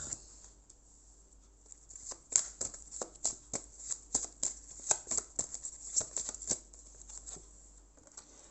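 Tarot cards handled and laid down on a table, a series of soft quick slaps, riffles and slides in irregular rhythm, close but quiet, with no voice over them.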